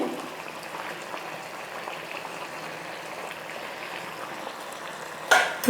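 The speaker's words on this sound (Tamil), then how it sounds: "குழம்பெல்லாம் கொதிச்சு நல்லா திக்காக வந்துடுச்சு" A pot of thick potato kara kuzhambu, a spicy Tamil curry, simmers steadily with soft continuous bubbling and popping, faint and even throughout, then ends in a brief louder clatter.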